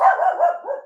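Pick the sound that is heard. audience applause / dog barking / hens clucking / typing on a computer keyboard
dog barking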